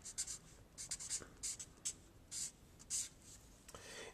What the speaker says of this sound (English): I'm going to actually write it a little differently